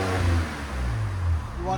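A RAM 1500 pickup engine with a Flowmaster Outlaw exhaust revs in short swells, close and deep, while people talk over it.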